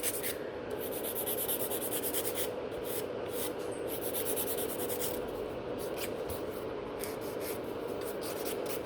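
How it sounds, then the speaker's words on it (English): Steady, continuous abrasive rubbing of a nail file against a gel nail, shaping an almond-shaped nail from underneath on the index finger; close and fairly quiet, with rhythmic back-and-forth strokes and no talking. "I'm filing from a little bit from the underneath to lift it up."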